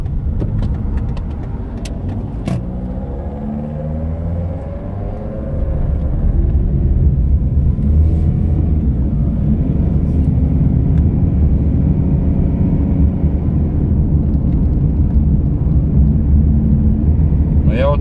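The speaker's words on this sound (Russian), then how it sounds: "Сейчас я слышу мотор" A Toyota Estima Hybrid ARH20W minivan's engine drones low and steady from inside the cabin while climbing a gentle uphill at about 40 km/h, growing slightly louder midway, with someone talking over it.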